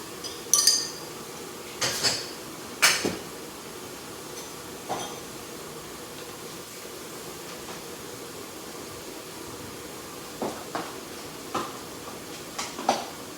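Sporadic clinks of dishes and cutlery against a low running background hiss, a few sharp clatters spaced irregularly throughout.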